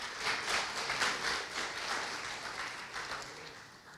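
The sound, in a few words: church congregation applauding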